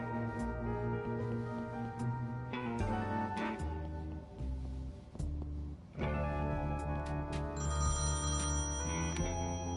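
A telephone rings in the point-and-click adventure game Thimbleweed Park, with repeated electronic bell trills over a background music track, fairly loud and alone without talk.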